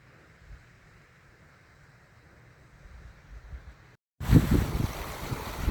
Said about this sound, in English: And this river's not in spate, very easy to cross today.